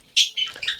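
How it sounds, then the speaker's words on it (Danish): Pet bird giving a few quick, bright chirps in close succession, near and moderately loud, with no talking over it. "Hvem har en fugl?"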